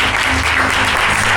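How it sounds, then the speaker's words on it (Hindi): Loud, dense applause from a church congregation, continuous clapping from many people close by for a brief moment. "हम इस रूहानी बाप के लिए जोरदार तालियां बजाएंगे।"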